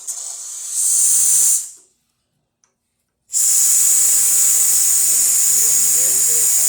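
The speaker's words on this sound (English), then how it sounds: "And now we are going to run the steam on." The steam wand on a Pasquini Livia 90 espresso machine fresh from a full service gives a loud, steady hiss. It cuts out to near silence for a moment, then roars back on strongly and continues unbroken.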